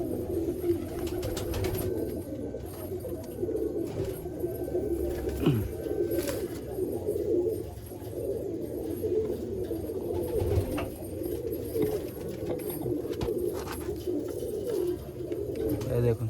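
Malwai pigeons from Baruipur keep up a low, throaty cooing, a steady rolling murmur with soft rustles and small clicks scattered through it.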